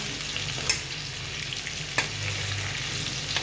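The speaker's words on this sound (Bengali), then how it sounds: "আলু টালু ভাজা হচ্ছে" Potatoes sizzle steadily in a frying pan, close by, with two brief clicks of a utensil against the pan.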